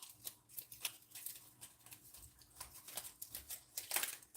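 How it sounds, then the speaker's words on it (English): Knife or scissors cutting the leaves off fresh garden beets, heard as a string of soft, close snips and rustles in an irregular rhythm, quiet and without talk. "Cut the leaves off, leave the tail."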